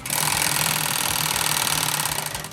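A serger sewing machine threaded with white serger thread runs at speed, giving a close, loud, rapid mechanical chatter and hum that holds steady for about two and a half seconds before easing off.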